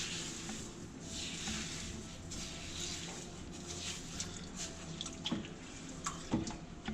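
Sand being dug through underwater in a reef aquarium tank, heard as a steady watery wash and rushing with scattered soft scrapes and sharper knocks toward the end.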